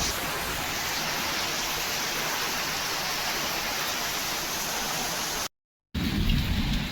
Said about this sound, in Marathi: कसं पावसात भिजतंय